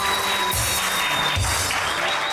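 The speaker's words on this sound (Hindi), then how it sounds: "बहुत सारी तालियां इन दोनों के लिए।" A studio audience on a television show applauds for a couple, loud steady clapping with a few low thumps mixed in.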